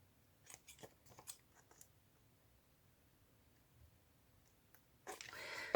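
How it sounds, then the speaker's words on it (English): Scissors cut through a paper tag with a few quick, soft snips close by, followed by quiet handling and a louder rustle at the end. "No, it doesn't work, so I have to cut it."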